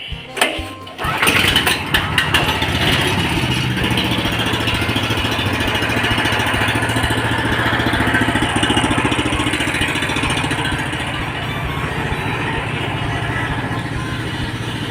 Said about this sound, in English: Let's disengage and we'll fire this thing up. I'll just start the engine up.